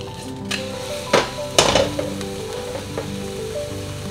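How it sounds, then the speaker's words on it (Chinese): Milkfish belly frying skin-side down in a pan, a steady close sizzle under a few sharp clanks and scrapes of a utensil against the pan. "鱼皮的部分大概煎个1分钟，然后不要动它"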